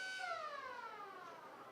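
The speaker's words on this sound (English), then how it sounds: "As the siren goes for half time." A football ground siren sounding for half time at a local reserves grand final, a single long descending wail that carries over a quiet crowd, heard faint and distant.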